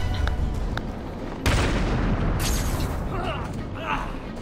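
Gunfire in Batman Arkham City, a dense, loud, booming wash of shots and impacts that builds sharply partway through and carries on without a break.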